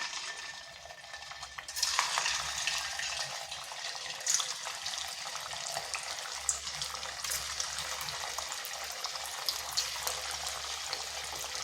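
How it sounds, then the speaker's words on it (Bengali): Semolina and potato snacks fry on high heat in hot oil in a kadai, producing a continuous close bubbling sizzle with occasional stirring scrapes, steady and moderately quiet with no voices. "এগুলোকে কিন্তু হাই আঁচে ভেজে নিতে হবে"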